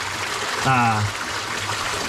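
Water from a giant pond trickles and flows through a flooded cave, a steady close gurgling wash with a brief voice cutting in over it midway.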